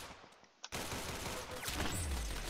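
Gunfire in the Roblox shooter Arsenal, pistols only: a sudden loud shot bursts in after a near-silent moment, followed by sustained dense game noise and rumbling impacts, no talk.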